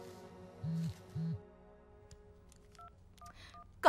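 A telephone is being dialed: a short series of separate push-button tones, some paired close together, play fairly faintly over a quiet background, followed by a sharp sound at the end.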